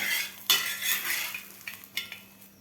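A mixed-vegetable thalipith flipped on a hot pan: a soft sizzle with a few sharp scrapes and taps of the spatula against the pan, close and quiet, with no voices.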